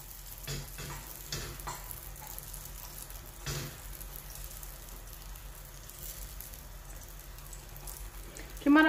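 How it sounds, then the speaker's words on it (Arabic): Sfenj dough dropped into a pan of abundant hot oil gives a soft, steady sizzle with a few small bumps and crackles near the start, quiet and close, then a sharp knock at the end. "غادي نحاولوا نهزوها بهذه الطريقه وغادي نخويوها في المقله اللي فيها الزيت"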